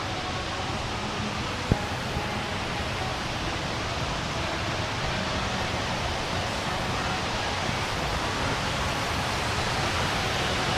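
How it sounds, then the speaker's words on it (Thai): Water pours steadily down an artificial waterfall in a dragon-themed shrine park, a constant broad rushing wash that fills the whole clip with little change, plus one brief click near the start. "อันนี้เขาเรียกอะไรน้ำตกเหรอ"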